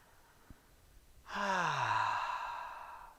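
During a tai chi workout, a single long, audible exhale comes as a close, breathy sigh that swells quickly and then slowly fades.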